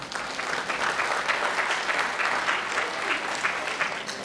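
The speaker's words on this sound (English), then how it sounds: "Clap your hands." A school band holiday concert audience claps steadily together, a dense, even wash of applause from a crowd that holds for several seconds with no clear talk over it.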